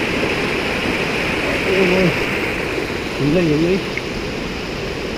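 A rushing mountain stream flows steadily while someone crosses it on foot in Taplejung, a broad constant wash of water with a voice speaking briefly over it twice.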